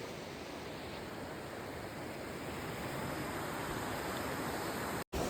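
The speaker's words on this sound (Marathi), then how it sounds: "वाहती नदी आहे ही." A flowing river in the Konkan region rushes in a steady, dense wash of water noise, close and continuous, with a brief dropout near the end.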